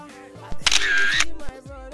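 A camera shutter fires while someone takes a selfie, giving a few quiet close clicks and a brief whirring sound amid low background noise.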